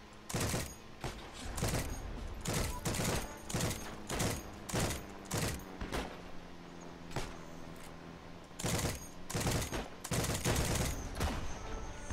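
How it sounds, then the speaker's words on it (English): Repeated bursts of machine-gun fire in the World War II shooter game Heroes & Generals, loud close volleys recurring through the stretch with short gaps between them, no talking. "I happen to be grabbing the machine gun"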